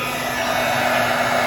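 A heat gun steadily warms the glued spine of a journal, giving a continuous, loud, even blowing hiss with a faint low hum beneath it, and no pauses throughout.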